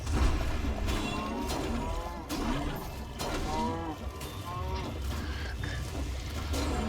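Cows moo repeatedly in overlapping calls over a dense, noisy Minecraft Dungeons game soundscape with clattering effects.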